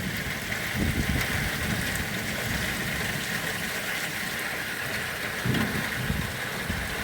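Steady outdoor rain during a thunderstorm, a dense continuous hiss of drops on surfaces with a low rumbling undertone and two brief swells, heard alone at moderate loudness without voices.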